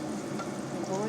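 Onions fry in a pan during home cooking, giving a soft, steady sizzle throughout a brief moment.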